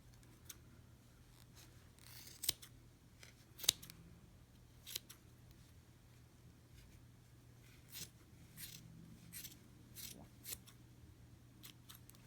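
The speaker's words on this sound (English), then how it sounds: "And then we're going to take that and cut these loops." Scissors snip through yarn loops while making a pom-pom for a knit hat, giving a handful of quiet, scattered cuts over a low steady hum.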